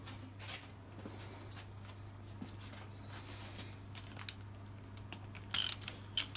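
A ratchet tightening bolts on an M16 brake caliper during an overhaul, giving quiet clicking pawl runs and light metallic handling under a steady background hum, with a few sharper clicks near the end.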